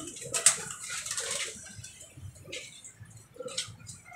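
Racing pigeons in a loft, soft low cooing and a brief flutter of wings near the start, faint and close, with light shuffling in between.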